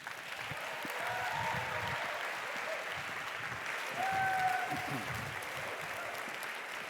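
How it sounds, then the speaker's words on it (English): An audience at the EA Global closing session in San Francisco bursts into sustained applause, a dense, even wash of many hands clapping from a large conference crowd. "Please welcome, with a big round of applause, one final time, Will MacAskill."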